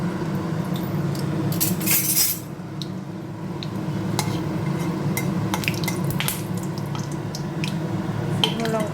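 Dried red chillies dropped into hot oil in a pan sizzle softly and steadily, with sharp spatters and a few metallic clinks of utensil against the pan over the fry.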